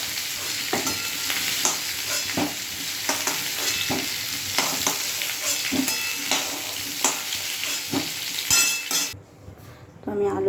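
Potatoes fry in hot oil with a busy sizzle while a utensil stirs and scrapes through them in repeated clanks; near the end the sizzling drops away abruptly as they are lifted out.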